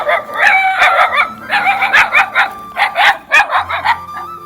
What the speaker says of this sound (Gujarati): મારા એરિયાના કુતરા અમારે હમું પાવર કરે.